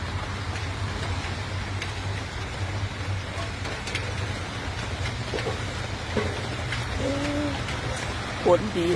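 Rain falls steadily as a dense, even hiss throughout, fairly loud, with a low hum underneath and a couple of brief knocks near the end.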